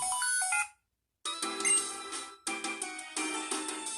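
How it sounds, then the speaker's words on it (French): Xtransceiver call ringing in Pokémon Black 2, a bright electronic ringtone that repeats in short jingling bursts with a brief gap of silence, loud and alone with no voices. "Ah, le Vokit sonne."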